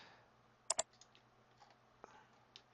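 A computer mouse clicks twice in quick succession, sharp and close, followed by a few fainter scattered clicks against a quiet background hum.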